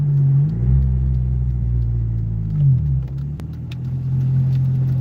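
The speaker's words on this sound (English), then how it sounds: "So I have to put the engine brake on" A car's engine in a driving video game drops into engine braking on a steep descent, producing a steady low droning rumble whose pitch sags and rises, loud and close with no talk.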